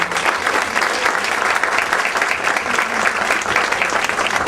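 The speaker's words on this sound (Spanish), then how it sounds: "Un aplauso para él, por favor." Audience applause at a master's program talk on social innovation, dense and sustained clapping from a sizable crowd at steady volume throughout.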